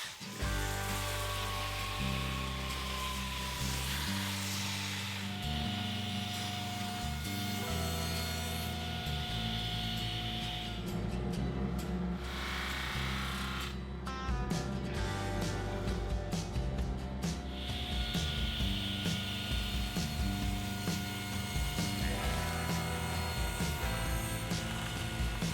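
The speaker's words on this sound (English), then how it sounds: "Now I can sand the top and cut it to size." Sanding and cutting a wooden bookcase top to size in a workshop: a continuous loud power-tool whine and abrasive rubbing with pitch changes, briefly easing midway, then steady again.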